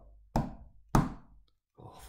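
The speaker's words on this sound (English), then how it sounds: "Oh, whence is that knocking?" Two sharp, hollow knocks on a door, evenly spaced and close, used as a sound effect in a reading of Macbeth, followed by a brief quiet and a soft breathy sound.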